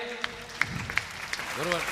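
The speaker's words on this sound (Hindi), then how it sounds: "एक बार जोरदार तालियां बजा दीजिए।" Applause at a Hindi kavi sammelan poetry gathering, a scattered patter of claps with a few sharp individual hits, under a voice that speaks and sings over much of it.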